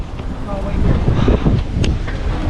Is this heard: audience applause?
no